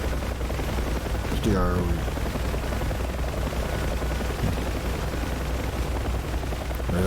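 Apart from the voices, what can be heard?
gunfire in video game DCS World UH-1H Huey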